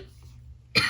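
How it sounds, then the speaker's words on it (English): A single short cough comes near the end, close and fairly loud, after a stretch of quiet room tone. "excuse my cough"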